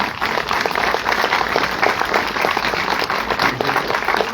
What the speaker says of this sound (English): A round of applause to the candidates again